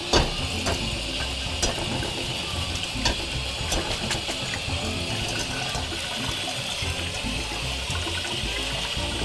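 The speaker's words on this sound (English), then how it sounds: "So what I would do is I run some water over my lo mein." Tap water runs steadily over cooked vegetable lo mein noodles in a sink, a continuous hissing splash with occasional clatters and no voices.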